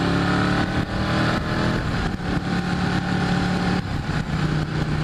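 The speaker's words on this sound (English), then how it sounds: "Oh, and I gotta whack this throttle real quick." An engine is revved hard as the throttle is whacked open, a loud, steady, close roar that holds for several seconds with brief dips in between.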